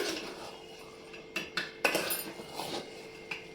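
A metal lid comes off a pot of white pulao with a few quiet clinks and scrapes, then a brief clatter as it is set aside.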